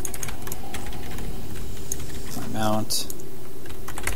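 Keys clack on a Logitech G15 gaming keyboard in quick irregular bursts, close and clear, while a person speaks briefly over the typing during a game session.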